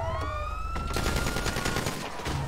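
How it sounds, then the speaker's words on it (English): A burst of rapid gunshots in a GTA roleplay street scene, loud and clustered, following a wailing police siren that sweeps across the first second. "Whoa! Shots fired!"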